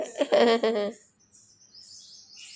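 Small birds come to a home in the morning to eat grain; after a short voice at the start, faint, high, scattered chirps follow at a little distance.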